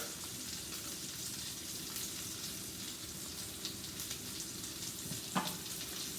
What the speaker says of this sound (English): I got this pan hot. I'm going to add a tablespoon of butter.